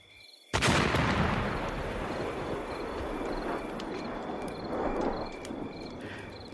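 An RPG rocket fired in combat strikes a hilltop grave mound at a Lao outpost, erupting in a sudden loud blast that settles into a sustained roaring rumble with scattered crackles, against a steady background of buzzing insects.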